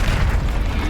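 Bombarda or Confringo spell blast in Hogwarts Legacy, a loud, continuous booming explosion filling the whole moment.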